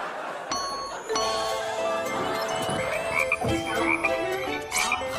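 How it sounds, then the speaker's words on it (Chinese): Croaking of a frog or toad, set over ringing chime-like tones during a studio word-guessing game show. Several rough croaks repeat at uneven intervals, fairly loud and steady, with no speech. "蛤蟆"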